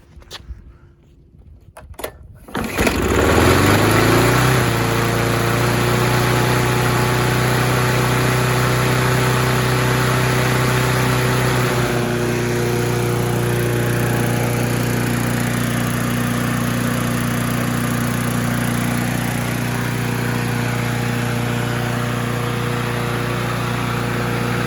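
Bolens lawn mower engine after a tune-up, a few faint pulls then firing up and settling into a loud, steady close idle drone that holds without a break.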